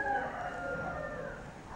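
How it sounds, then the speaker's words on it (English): A rooster crows in a town in Nigeria, a drawn-out, moderately distant call lasting the whole moment, with a faint second bird and light background ambience. "And then it makes noise, then the next rooster makes another noise."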